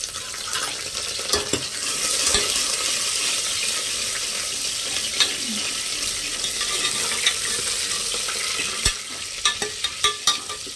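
Garlic and curry leaves sizzle and crackle in hot oil in a pan for avarekalu sambar, a loud steady hiss close up with a few clinks of stirring near the end.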